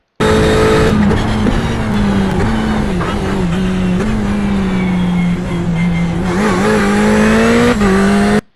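Race car lapping the VIR circuit, a loud, close in-car engine drone that rises and dips with gear shifts and throttle changes, continuous throughout with no talking.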